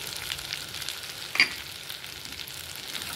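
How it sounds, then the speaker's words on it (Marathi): A red chilli and homemade masala mix fries in a tempering of oil and butter, crackling and sizzling steadily up close, with one brief sharp click of a utensil against the pan. "आता आपण हा मसाला छानपैकी परतून घेणार आहे."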